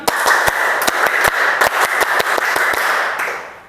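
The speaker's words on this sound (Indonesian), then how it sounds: "Oke, siap. Tepuk konsentrasi." Loud, sharp claps from a group doing the 'tepuk konsentrasi' clapping routine ring out in a quick, patterned sequence of single and paired strikes over a steady background hiss.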